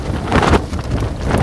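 Strong wind buffets the microphone on a Dartmoor tor during a wet, windy wild camp, a loud continuous roar with gusts swelling and easing, no voices present.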